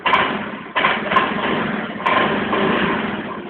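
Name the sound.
car engine started and idling via remote starter alarm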